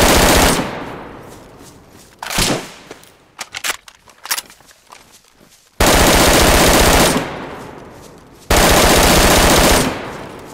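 Bursts of automatic gunfire in a PS5 shooter game, loud sustained rapid volleys alternating with scattered single shots and brief pauses, no voices.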